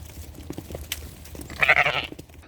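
An Icelandic sheep heading to the barn gives a short, fairly close bleat over faint background shuffling and bumps.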